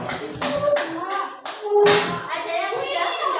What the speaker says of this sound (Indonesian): Tepuk tangan kelompok ini yang jawab.